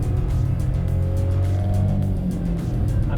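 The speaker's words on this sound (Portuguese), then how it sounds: "o ruído do motor invadir bastante aqui no interior do carro" Steady engine drone inside the cabin of a compact car, a Hyundai HB20 1.0 or Volkswagen Polo Track, with a low hum and a slight rise in pitch midway, heard continuously with no talk.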